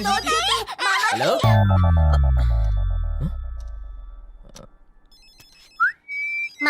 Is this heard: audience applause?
no